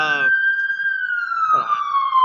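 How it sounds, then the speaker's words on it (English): An ambulance siren wails steadily outside, one long falling tone that passes through the whole stretch. Brief bursts of a voice sit at the start and again near the end. "So many ambulances around here."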